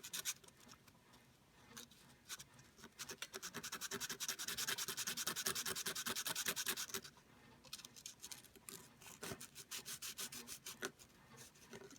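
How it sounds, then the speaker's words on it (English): Wood being shaved and sanded down on a tiny handmade replica guitar, a steady close rasping and scraping that builds to a dense, loud stretch midway, then continues in shorter rhythmic strokes. "Gotta shave this down just a little, it's too thick."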